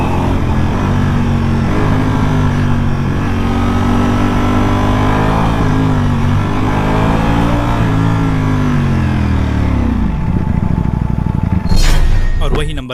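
A Honda RC 113 VS sport motorcycle on its stock exhaust revs loudly at steady revs, the engine drone's pitch wavering up and down, then drops off abruptly near the end.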